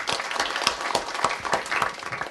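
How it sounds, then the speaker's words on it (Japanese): Audience applauding a university professor after a lecture at a press club event in Tokyo, a dense patter of hand claps with a few sharper individual claps, steady and fairly close, with no talk over it. "もう一度大きな拍手をお願いいたします"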